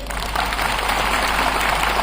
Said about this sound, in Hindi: अगर स्टेज वालों को समझ में आ गया तो आप तालियां बजाइए।